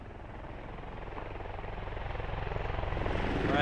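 A military helicopter in the game Squad, its rotor thumping steadily and growing louder as it closes in, with a faint voice beneath the engine roar.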